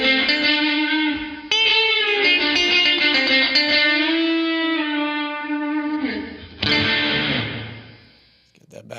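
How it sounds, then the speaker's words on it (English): An Artifakt Lo-Fi Elements pedal in µVerb mode with the reverb turned up makes sustained, washy, distorted tones that ring out and then decay, with a sharp retrigger midway and a fade into silence near the end. "You can hear it's just the reverb."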